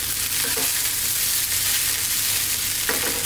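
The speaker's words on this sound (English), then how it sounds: "I hope you can hear that rice actually frying" Cauliflower fried rice sizzles and crackles steadily in a hot pan, with a couple of brief scraping stirs.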